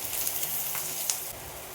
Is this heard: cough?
no